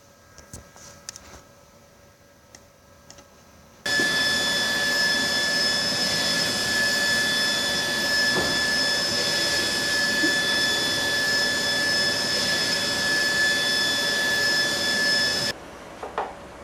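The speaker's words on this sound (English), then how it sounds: "one click on the print button and the file is printing." A ValueJet 426UF UV printer printing a file runs as a steady, loud mechanical whir with sustained high whining tones, starting abruptly after a few quiet seconds and stopping near the end.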